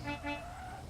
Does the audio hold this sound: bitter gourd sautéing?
no